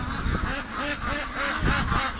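Ducks quack repeatedly in a close, loud run of calls, several birds overlapping in a busy outdoor setting among bulrushes.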